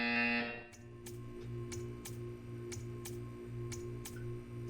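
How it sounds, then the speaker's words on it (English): A steady electronic buzzer tone from the video game Portal 2 with a regular ticking pulse, about once every half second, repeating evenly at moderate volume. "You will hear a buzzer."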